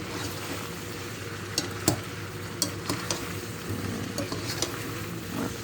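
Mushrooms, green beans and boiled potatoes stirred in a hot pan: an even frying hiss punctuated by occasional sharp utensil clinks and scrapes, close and steady, no talk.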